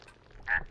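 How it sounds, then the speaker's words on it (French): Brief bird call in the horror video game Remothered, a short nasal honk-like cry rising out of dim background ambience near the end. "C'est un oiseau."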